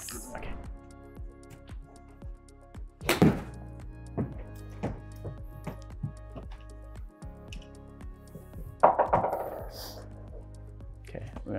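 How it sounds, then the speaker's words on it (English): A 7 iron strikes golf balls on the range, giving two sharp, distinct impacts several seconds apart, with people talking around the shots. "We're gonna hit 3 shots"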